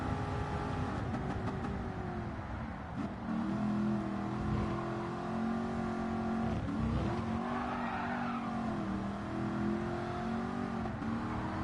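A 1969 Mustang Boss V8 in Gran Turismo 7, fitted with racing tyres, roars continuously near its top speed. Its pitch dips and climbs again through repeated shifts and lifts, with a faint tyre squeal along the way.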